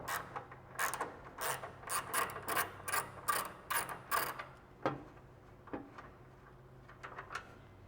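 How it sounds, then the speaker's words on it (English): Ratchet wrench on two 10 mm bolts during a Toyota MR2 engine prop kit install: a run of quick, close clicking bursts for several seconds, then a few sparse single clicks. "Let's go ahead and take these two 10 millimeters off."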